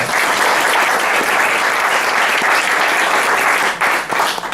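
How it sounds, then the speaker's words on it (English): Rotary Club meeting audience applauds a speaker, dense steady clapping from many hands filling the room, loud and close, with no talk over it. "Give him a round of applause."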